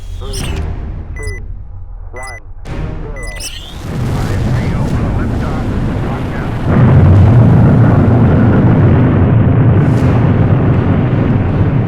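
A Falcon 9 rocket launch carrying the SpaceIL lunar lander, heard as a deep, roaring rumble that swells in two steps and holds loud and continuous, after a few seconds of talk with radio beeps.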